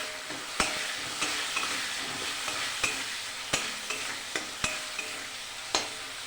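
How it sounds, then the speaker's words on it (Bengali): Spices, turmeric and chopped tomato sautéed in a pan for a Bengali egg curry, a continuous close sizzle broken by regular sharp clicks of a spatula scraping and knocking the pan about once a second. "ভালো করে কষিয়ে নেব।"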